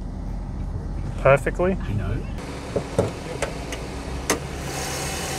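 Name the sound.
auction car engine starting and idling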